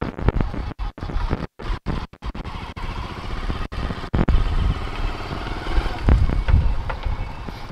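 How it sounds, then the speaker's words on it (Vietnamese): A Honda Master 125 motorcycle engine runs steadily outdoors, a continuous close putter with a rumbling low end, broken by several short dropouts before settling into an even idle. "Chiếc máy chạy rất là êm."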